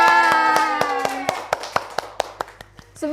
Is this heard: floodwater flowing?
no